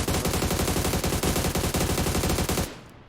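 Rapid automatic gunfire from the PUBG Lite video game rattles in a loud, continuous burst of evenly spaced shots that cuts off abruptly near the end.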